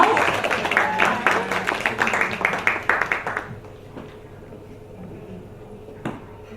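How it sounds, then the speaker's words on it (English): A round of applause for performers at an agriculture and food deans meeting, a lively burst of close clapping that stops abruptly partway through, leaving a quiet room with a faint thud. "Can we have a round of applause for our performers, please?"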